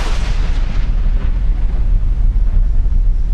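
A volcano in Japan rumbles in eruption, a deep continuous roar like distant thunder, loud and steady in the low range with no voices.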